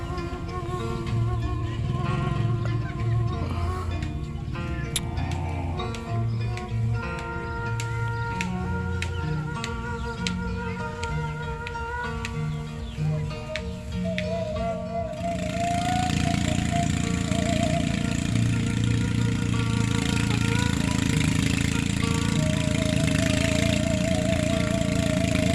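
A TLESER rice threshing machine's engine runs steadily at harvest in the rice field, a continuous mechanical drone that grows louder and denser partway through, with no talk over it.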